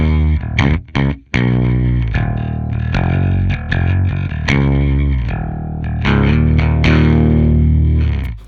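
A Fender Standard Jazz Bass plugged straight into an amp with no pedals plays a sequence of clear, ringing notes, each struck and sustained in close succession with a full low end.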